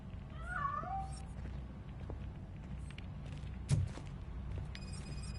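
A cat meows a few times in Robocop: Rogue City, its short rising and falling cries standing out at moderate distance over a steady low ambient hum, with a brief knock partway through.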